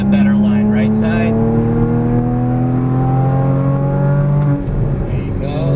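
A Porsche Cayman GTS engine on track keeps a loud, steady drone with rising harmonic tones as it accelerates, heard from inside the car, with a voice speaking over it.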